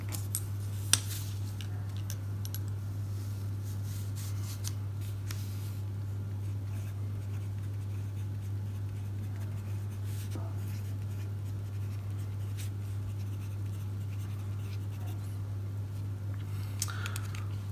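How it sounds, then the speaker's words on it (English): Soft scratching of a fountain pen nib across paper while writing out an ink name, faint and close, over a steady low electrical hum with occasional light taps. "Let me write the name of the ink also."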